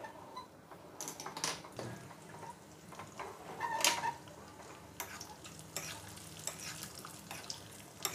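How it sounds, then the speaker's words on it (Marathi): Cashews fry in oil, sizzling and crackling softly in a pan, with scattered ticking pops and a few light clinks of a utensil. "हे काजू थोडेसे तळून घ्यायचे आहेत."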